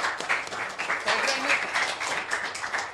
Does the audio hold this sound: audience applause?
yes